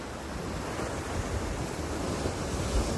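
Sea waves wash in a steady, broad roar at a moderate distance on a volcanic coastline, with no voices.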